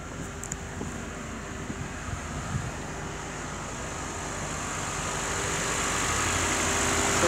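A 2012 Acura TSX Special Edition with a six-speed manual idles smoothly and steadily. The low, even hum is accompanied by a faint whine and wind noise on the microphone, and it grows slightly louder toward the end.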